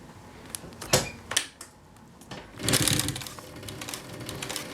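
A Pfaff 545-H3 walking foot sewing machine fitted with a binder stitches scrap vinyl, with a few separate mechanical clunks followed by a short continuous run of stitching, close up.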